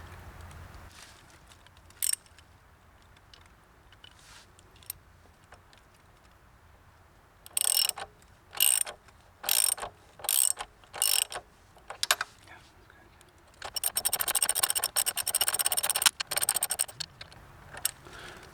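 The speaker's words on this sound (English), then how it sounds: "Then you add a little bit of the glue and then screw it back in." A billet piece of a rally-raid bash plate is screwed back into a Honda CB500X. Short bursts of ratcheting clicks come in quick succession, followed by a longer continuous ratcheting run, close up, with no talk.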